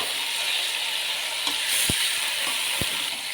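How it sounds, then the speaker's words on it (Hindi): Beef frying in a pot for Peshawari shinwari, a loud, steady sizzling hiss with two brief low knocks from the pot near the end, close by. "गोश्त को अच्छी तरह भून लेंगे, थोड़ी 2 से 4 मिनट के लिए हम गोश्त को भून लेंगे।"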